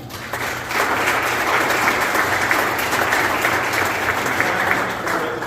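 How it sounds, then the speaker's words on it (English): An audience at a sheriff candidates meet and greet applauds the candidates, a steady, full round of clapping from a crowded room that swells quickly and holds evenly. "let's give them all a round of applause for taking time"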